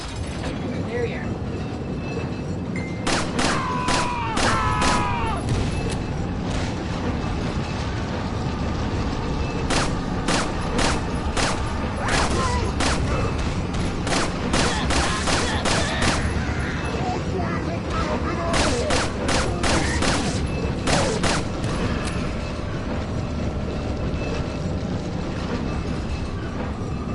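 Gunfire in the horror video game Resident Evil 4: repeated bursts of sharp shots in clusters over a steady game soundscape, with a voice talking over it.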